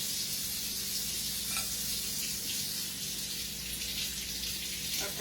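A kitchen tap runs steadily while a knife is rinsed during potato soup preparation, a continuous hiss with faint clinks and no talking.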